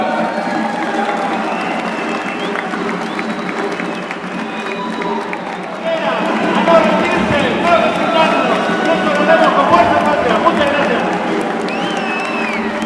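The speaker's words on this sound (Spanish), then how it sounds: "Fuerte el aplauso" A large crowd applauding and cheering at a political campaign-closing rally in Villa Ángela, growing louder partway through, with a loudspeaker voice and crowd noise mixed in.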